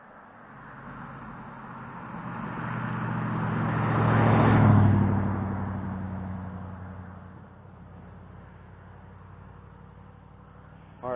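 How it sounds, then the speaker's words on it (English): A single car approaches on a quiet road at night near a graveyard, its engine and tire noise swelling to a peak as it passes close by, then fading gradually into the distance. "Oh, here comes a car."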